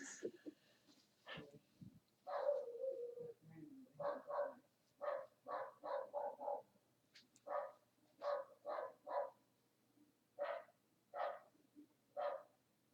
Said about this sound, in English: We got a dog, a neighbor dog.